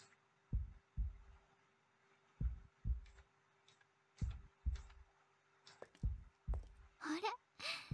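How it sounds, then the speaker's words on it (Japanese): Heartbeat from the Tsukihime visual novel: paired soft low thumps repeating steadily at a calm pace, close and muffled, with a breathy voice briefly surfacing near the end. "there's a heartbeat"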